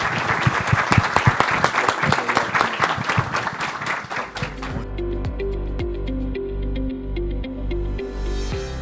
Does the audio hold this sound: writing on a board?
no